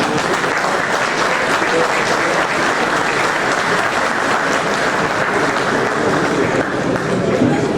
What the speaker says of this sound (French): je vous prie d'accueillir sous vos applaudissements